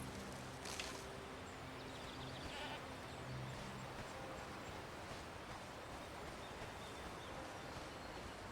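Goats bleat in a video game, a few calls rising over a steady windy ambience with faint birds, loud and continuous throughout with no talking.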